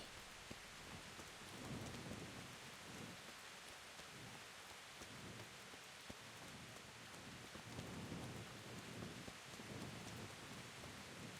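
Steady rain pours in the medieval world of the game Kingdom Come: Deliverance, a soft continuous hiss with faint low rumbles, heard alone without voices.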